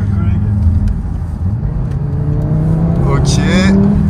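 An Audi TT RS accelerates hard on a country road, a steady engine drone with a rising tone toward the end, heard from inside the car while people talk over it.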